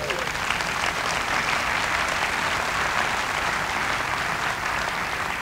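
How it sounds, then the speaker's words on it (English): A church congregation breaks into sustained hand-clapping applause, a dense, even wash of many hands lasting throughout. "Give the Lord a hand clap."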